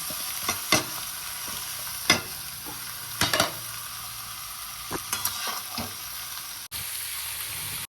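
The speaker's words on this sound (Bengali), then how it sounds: "তারপরে দিয়ে দেবো পেঁয়াজ, কাঁচা লঙ্কা, রসুন।" Onion, green chili and garlic frying in a hot pan for a prawn malai curry: a steady, close sizzle punctuated by several sharp stirring scrapes and clacks, with no talking.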